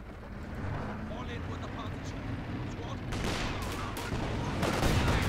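Gunfire in the video game Company of Heroes 2 during an infantry assault with artillery firing: a steady battle din with bursts of rifle and machine-gun fire growing louder, under a commentator's continuous talk.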